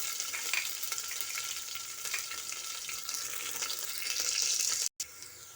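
Onions and curry leaves crackle and sizzle steadily in hot oil with popped mustard seeds, a close, continuous frying hiss with a brief cut near the end.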